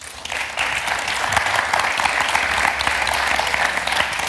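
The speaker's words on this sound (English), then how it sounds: "So give a round of applause." An audience at an electronic music panel event gives sustained applause for the guests. The clapping is dense and even throughout, with no talk over it.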